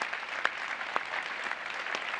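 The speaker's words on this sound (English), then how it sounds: "Let's give a big round of applause one more time for Andrew." Audience applause at a live Microsoft Mechanics tech show about IT and cloud skills, a steady moderate wash of clapping with a few sharper claps standing out, no voices over it.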